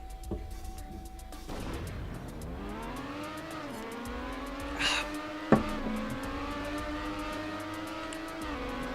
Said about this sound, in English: we're driving still the stadium car